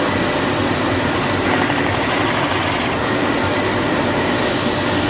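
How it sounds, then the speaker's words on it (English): A loud, steady mechanical whir of a drill boring holes in wood for a candle holder runs continuously throughout, close up, with no pauses. "now we're going to continue drilling these holes out"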